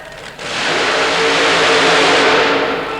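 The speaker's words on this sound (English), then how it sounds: "He changed to a body and chassis style very similar to Tom Martin's, except this year a supercharged, fuel-injected, methanol-burning Chevy." A supercharged, fuel-injected, methanol-burning Chevy mud racer engine at a 1990 Baltimore super modified mud race, roaring up loud and close into a sustained, full-throttle blast.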